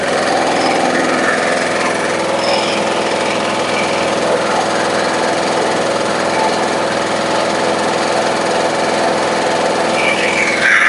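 A small Briggs & Stratton engine with a diaphragm-type carburetor runs at a steady, loud idle, its drone continuous and close for the full stretch with no talking.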